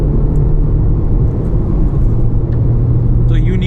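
A Toyota Glanza V with a manual gearbox runs from inside the cabin, its engine rumbling steadily through a downshift with road noise, without a sharp rev.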